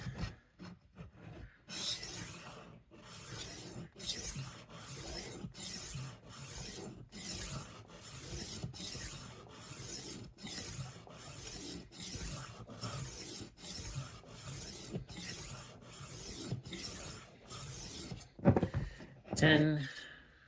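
A 12-inch Henckels chef knife is drawn back and forth across a whetstone in steady, regular rasping strokes, quiet and close, with a brief clatter near the end.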